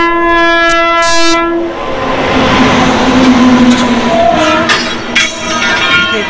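A double-decker passenger train in India arrives on the Bangalore–Coimbatore route, first sounding a loud, sustained horn, then rumbling past close by with heavy wheel and carriage noise that continues throughout.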